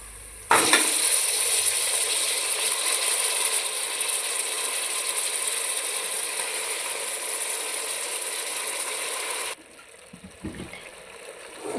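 Goat meat for a goat head curry hits hot oil with fried onions, giving a loud, steady sizzle for several seconds before it cuts off, followed by a few clattering knocks.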